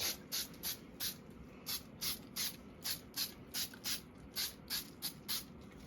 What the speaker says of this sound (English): we're going to give this a little bit of spray glue